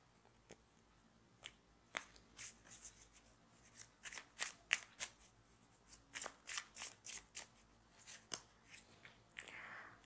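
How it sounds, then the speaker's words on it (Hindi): Tarot cards being shuffled by hand produce a quiet, close series of crisp riffles and flicks in irregular bursts, with no voices. "एंड इसको थोड़ा सा एक बार शफल कर लेते हैं।"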